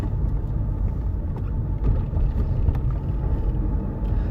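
A BMW 1 Series with a manual gearbox cruising along a rural road, heard from inside as a steady, loud low engine and road rumble with faint wind noise, continuous and unbroken throughout.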